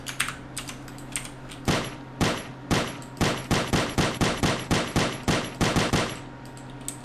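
Rapid gunshots fired in a homemade first-person shooter built in the Blender Game Engine, a sharp repeating train of about twenty clicky bursts, loud and close, with no talking.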